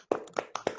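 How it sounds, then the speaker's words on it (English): Handclaps from one person over a video call, four distinct close claps in uneven rhythm, slightly compressed and thin. "Please unmute your mic and clap for her."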